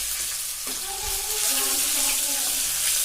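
Ginger paste frying in well-heated oil in a pan, a steady close sizzle with faint stirring and clinks running through the whole stretch.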